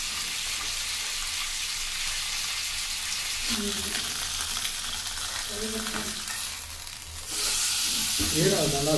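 Fish placed into hot oil on a heated tawa, a steady loud sizzle and crackle throughout with occasional scraping of a utensil and brief bursts of spitting oil, no talking.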